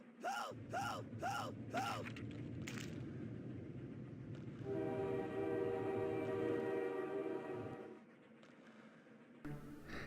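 A train level in a video game plays mechanical rail sounds: four rising creaky squeals at the start, then a steady rumble with a sustained tonal screech in the middle, moderately loud.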